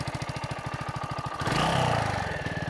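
A Mutt Mongrel 250 motorcycle engine idles close by with a steady, fast thumping pulse, then briefly revs up into a louder, rising roar before settling back.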